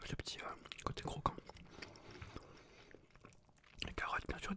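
Close, soft chewing and crunching of a Picard blanquette of veal with cream, rice, carrots and crunchy mushrooms, eaten ASMR mukbang style; moist bites and clicks come in uneven bursts between quiet whispered speech.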